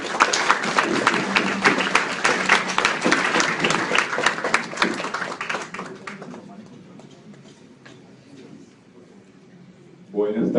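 A lecture audience at the Universidad Nacional Mayor de San Marcos gives loud, dense applause welcoming a speaker. It thins to scattered claps and quiet, and then a voice begins speaking.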